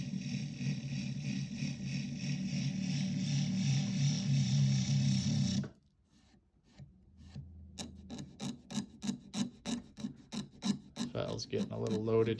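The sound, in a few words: hand file filing wood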